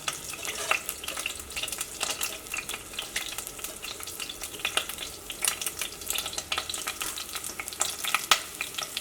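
Onions and green chilies crackle in hot oil in a pan, a steady close sizzle with scattered sharp pops and stirring scrapes throughout, no voices.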